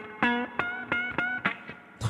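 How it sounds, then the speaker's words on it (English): An electric guitar through AmpliTube 5 amp simulation with reverb at about 3.5 plays a run of sharp plucked notes, each leaving a short shimmering reverb splash, moderately loud and alone. "the little splash with the reverb"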